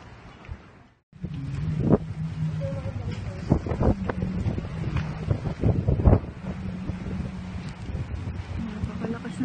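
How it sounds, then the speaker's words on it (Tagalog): Strong typhoon wind buffets the microphone in loud, rumbling gusts, with a voice speaking over the roar throughout. "Napakalakas ng hangin."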